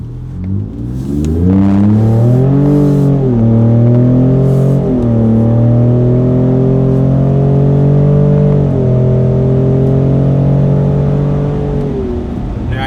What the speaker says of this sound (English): I'll give you a quick rip with wide open throttle and see what this system sounds like.